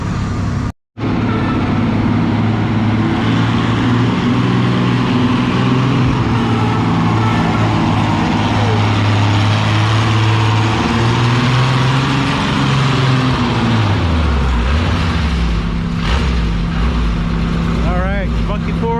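A pulling tractor roars at a tractor pull, its engine holding a loud, steady, sustained drone and then dropping in pitch near the end, with an announcer talking over it.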